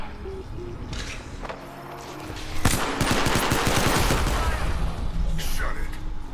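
Rapid automatic gunfire from an Apex Legends match, sustained bursts growing louder and denser midway, with game effects layered underneath and no speech over the shooting.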